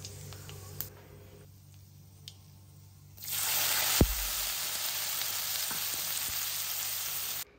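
Bottle gourd peel dropped into hot oil tempered with black cumin and dried chillies, a quiet low hiss that bursts into a loud, sustained sizzle partway through with a sharp thud as it lands, no speech.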